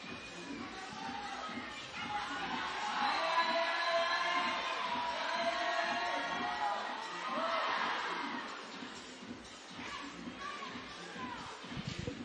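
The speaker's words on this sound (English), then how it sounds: "The crowd getting behind Julie Medici here in the middle" Spectators at a women's bouldering semi-final in Curitiba cheer and shout together, a broad distant roar that swells and holds for several seconds before easing back into crowd murmur.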